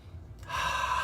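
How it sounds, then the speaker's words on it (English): One person takes a single deep breath, a soft quick intake that swells into a long, steady breathy rush, close and clear, with no talking. "Take a deep breath."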